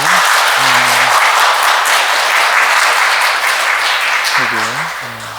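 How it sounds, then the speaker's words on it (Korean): A church congregation claps for three monks honored on the Feast of the Presentation of the Lord. The applause is loud, sustained and close, with brief spoken or sung voices cutting through near the start and end. "우리 박수 한번 이렇게 보내드릴까요?"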